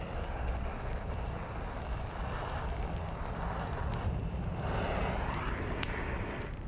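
A wood fire burns under a pot of chicken being slow-cooked outdoors, a continuous roaring crackle with scattered sharp pops and snaps, close and steady.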